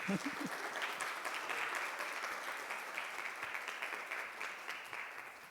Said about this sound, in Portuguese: Então palmas para o Mário de Andrade